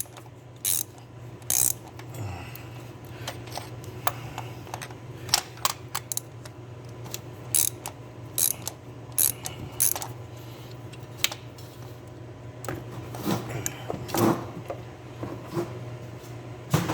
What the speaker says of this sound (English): Put your ratchet on there. I like to loosen them all first.